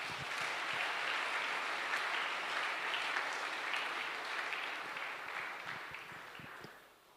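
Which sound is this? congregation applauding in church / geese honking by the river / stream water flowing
congregation applauding in church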